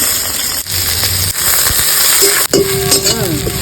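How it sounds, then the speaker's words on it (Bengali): Onions frying in oil in a pan for a dried fish paste, giving a loud, close, steady sizzle with rattling stir clatters breaking through now and then. "এবার আমি পেঁয়াজ গুলা তেলের মধ্যে দিয়া দিলাম।"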